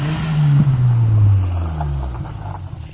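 A turbocharged Honda Civic drives past, its engine note sliding downward as it passes close by and then trails off into the distance, with no voices.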